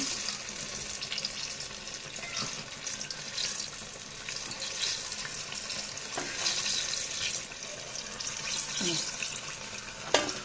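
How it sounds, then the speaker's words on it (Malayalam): Jackfruit fritters deep fry in hot oil, a dense continuous sizzle and bubbling heard close up throughout, with occasional clicks as pieces are turned. "ഒരു ഭാഗം ഫ്രൈ ആയി വരുമ്പോൾ മറ്റേ ഭാഗം നമുക്ക് മറിച്ചിട്ട് കൊടുക്കാം"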